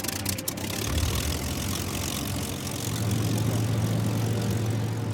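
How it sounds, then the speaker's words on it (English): A WW2 aircraft's Rolls-Royce Merlin engine runs steadily with a deep, continuous low drone, close and loud, with a brief rattle at the start and no talking. "You hear the sound of the Merlin engine"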